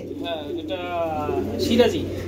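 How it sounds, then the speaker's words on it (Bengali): Baby Sirazi pigeons, silver-coloured and four to five feathers old, give soft, low coos at close range at a pigeon market, with a steady hum and people talking throughout. "সিরাজি কবুতর বেবি"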